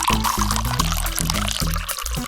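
Liquid potions are poured in a cartoon Minecraft-style kids' scene, a loud glugging pour with rhythmic bubbling pulses repeating throughout, no voice over it.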